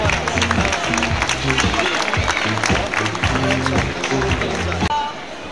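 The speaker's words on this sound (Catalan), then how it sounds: "Un aplaudiment per la Sònia" Outdoor applause from the crowd at the Solsona tió fair, a Christmas market in the town square: sustained clapping mixed with crowd babble and voices, loud and close, fading slightly near the end.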